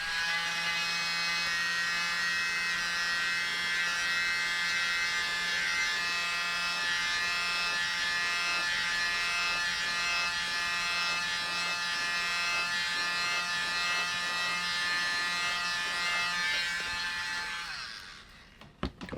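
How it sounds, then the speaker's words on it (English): A small electric mini blower runs steadily and loudly for about eighteen seconds during nail art, giving a constant buzzing whine before it cuts off near the end. "Okay, grab the little mini blower again."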